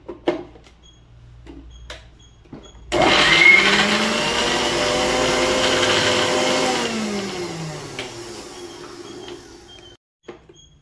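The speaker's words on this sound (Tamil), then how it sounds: "மிக்ஸில எல்லாம் போட்டாச்சு. இப்போ பேஸ்ட் பண்ணி எடுத்துக்கலாம்." A mixer grinder grinding mint paste whirs loudly and continuously for about seven seconds, then its motor winds down in falling pitch and stops.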